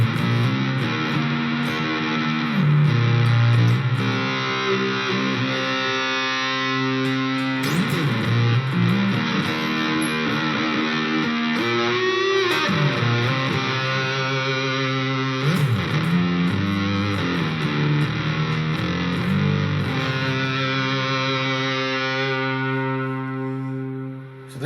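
An electric Strat-style guitar played through a Soldano preamp model with fuzz on a Neural DSP Quad Cortex gives a thick, sustained distorted tone, with bending and shifting notes over a steady hiss for about twenty-five seconds.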